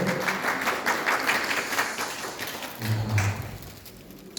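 Church congregation clapping during a Korean Presbyterian Parents' Sunday service, a steady wash of hands through the room with a low murmur of voices rising near the end.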